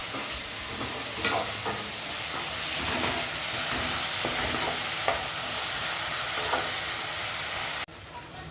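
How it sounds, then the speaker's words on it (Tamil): Steady sizzling and crackling of onions frying in a hot pan, with occasional soft stirring scrapes and a brief clunk near the end. "வெங்காயம் வந்து வதங்கட்டும்."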